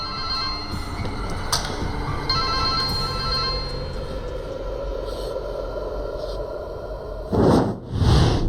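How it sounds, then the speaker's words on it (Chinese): A telephone rings twice near the end, loud and close, after a stretch of low rumbling background noise with no answer. "老姜，武阳还是不接电话。"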